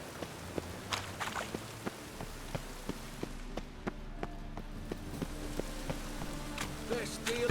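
Steady rain patters over the streets of Novigrad in The Witcher 3, a dense hiss broken by scattered drip taps and footsteps, with a low drone underneath throughout.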